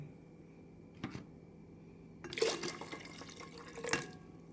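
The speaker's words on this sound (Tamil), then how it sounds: "நாம் இதனுடன் இரண்டு கப் தண்ணீர் சேர்த்து விடலாம்" Water poured into ground rice batter for appam makes short, soft splashing bursts, one brief pour followed by a longer gurgling stream and a final splash, nearby and alone against a faint background hum.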